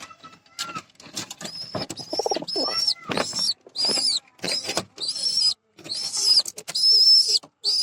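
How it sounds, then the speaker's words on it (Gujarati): Caged pigeons, including males, cooing up close in a series of short breathy calls with brief gaps, interspersed with soft rustles and shuffling. "ને એની અંદર છે 3 કબૂતર"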